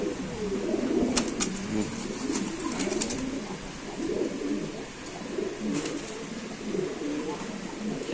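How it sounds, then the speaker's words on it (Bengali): Pigeons at a market stall, held in a cage, coo softly and steadily with low rolling calls over a busy background, with a few sharp clicks and some faint talk in the distance. "এটা একটা কবুতর"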